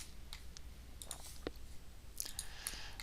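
Mouse clicks while selecting round target objects in IGEMS software, a few faint, sparse, sharp ticks spread out over a low steady hum.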